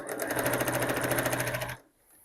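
Sewing machine stitching a fabric book sleeve, a steady fast needle rhythm running close and loud for nearly two seconds before stopping abruptly into quiet.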